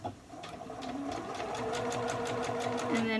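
A sewing machine runs a straight stitch along the arm band of a sleeveless sweater, its needle chattering in a fast, even rhythm that holds steady and close for the whole stretch.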